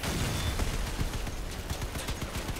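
Sustained automatic gunfire from a vehicle combat video game, a dense rapid rattle of minigun bursts that stays loud and continuous throughout with no speech over it.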